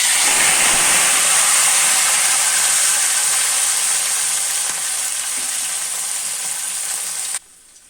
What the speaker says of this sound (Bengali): এখন আমি কুমড়োগুলো দিয়ে দিব।